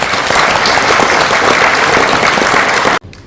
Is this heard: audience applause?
yes